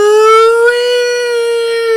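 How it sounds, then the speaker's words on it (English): A loud, steady wailing siren sounds close by, holding a sustained rising-and-holding tone for the whole stretch with no voices over it. "she heard a loud wailing siren noise from outside"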